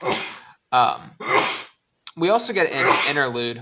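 A few sharp, explosive sneezes burst out in quick succession between stretches of conversation, loud and close to the microphone.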